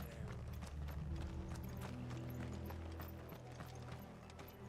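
Horses' hooves clip-clop in the Final Fantasy 16 video game, a faint rhythmic clatter under low droning game ambience.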